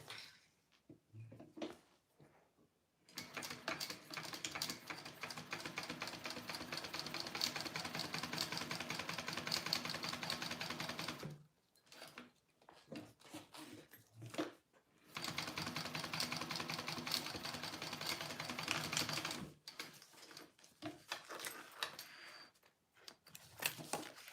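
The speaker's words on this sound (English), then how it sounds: "and then I'm gonna sew that on." A sewing machine stitching an on-the-go pouch, long steady runs of fast rhythmic mechanical whirring broken by short pauses and small handling clicks, close and fairly quiet, no talk.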